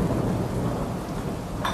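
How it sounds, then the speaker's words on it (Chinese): Heavy rain pours down steadily with low rolling thunder throughout, recorded outdoors in rural China during the autumn rice harvest, loud and continuous with no voices. "果不其然，大雨如期而至"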